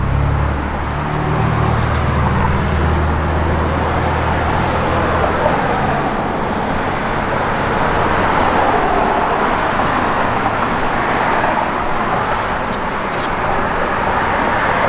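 1969 Chevrolet Chevelle SS 396 V8 running, a steady low rumble with broad road and wind noise, loud and continuous for the whole stretch.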